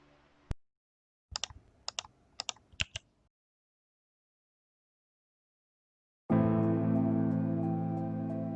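A few short runs of crisp keystrokes on a hand-wired, wireless 64-key Alice layout keyboard, close and distinct with silent gaps between. Loud sustained tonal sound breaks in near the end.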